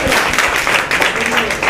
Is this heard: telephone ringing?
no